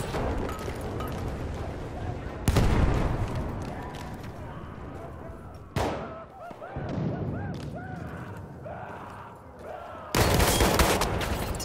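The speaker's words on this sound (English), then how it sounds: "I shot him three or four times, and he shoots me just a couple of shots for that." Battlefield 1 gunfire, with dense bursts of rifle and automatic fire and sharp loud cracks over battlefield rumble, sounding near and far while someone talks throughout.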